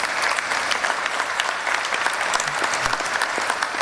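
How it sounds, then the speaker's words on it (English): An audience at an institute event breaks into applause, many hands clapping in a dense, steady patter that stays fairly even, with no speech on top. "A round of applause."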